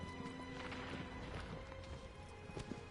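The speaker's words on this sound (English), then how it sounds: "I swear I can drive this horse." Horse hooves clopping in the video game Shadow of the Colossus, a quick run of hoof beats mixed with a brief whinny over the game's background sound.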